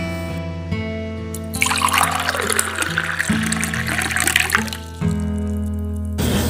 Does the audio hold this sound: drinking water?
yes